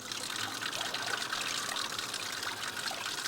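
A decorative water fountain trickles softly and steadily, a faint, continuous splashing with no other sounds.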